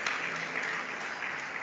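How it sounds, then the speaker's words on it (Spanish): Church audience applauding during a pastor's campaign service, a steady dense clapping that fills the whole moment without letup. "Den un fuerte aplauso"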